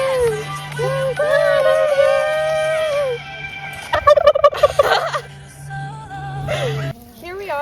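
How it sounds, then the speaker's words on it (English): A male turkey gobbles loudly and repeatedly over music playing with a singing voice, its rapid rattling calls bursting out near the middle and again toward the end. "Turkeys also love music. Sometimes they even sing along."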